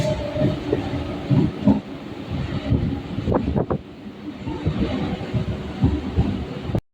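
A Howrah to Belur Math local train runs on, slowing as it leaves the main line. Wheels clatter in an uneven rhythm with rumbling and wind buffeting inside the carriage, before the sound cuts off abruptly.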